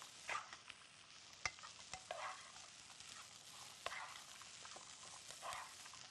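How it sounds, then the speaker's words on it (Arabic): Vegetables and onion sautéing in a pan for a cream vegetable soup, giving a faint, steady sizzle with scattered soft scrapes and clicks of stirring, fairly quiet throughout. "كل الخضار بقى بياخد كده ايه تشويحة"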